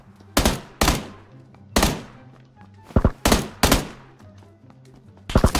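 An S12K shotgun firing in PUBG on PC: about seven loud, booming blasts at irregular intervals, each one cracking sharply and then decaying, with a quick pair of shots near the end.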